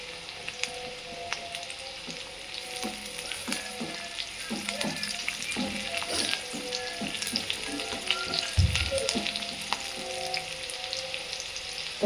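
Garlic and chilli frying hard in a pan over raised heat, a dense crackling sizzle like rain with scattered pops and a soft clunk near the end, steady and close, no voices.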